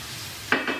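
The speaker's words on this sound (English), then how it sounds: "I'm really just going to heat it up a little bit because, like I said, the spinach is already wilted." Wilted spinach with onions and garlic stirred in a pan, a quiet steady sizzle of heating greens, then two short scraping stirs of the utensil near the end, with no talking.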